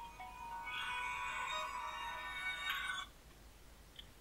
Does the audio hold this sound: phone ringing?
yes